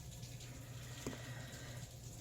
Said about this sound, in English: sorry if y'all hear what sounds like running water or pouring water. It is currently